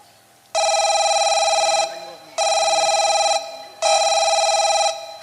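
A telephone ringback tone sounds three times in long, even bursts with short gaps, loud and steady over faint background murmur.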